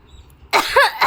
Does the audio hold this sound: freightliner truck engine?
no